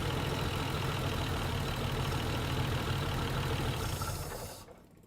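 Old engine that sat unused for 30 years idling with a steady, smooth rumble, close and continuous, then dying away abruptly in the final half second.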